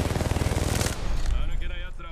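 Rapid automatic gunfire in the Apex Legends video game, a dense stream of loud repeated shots over about two seconds, with a player's voice talking over it.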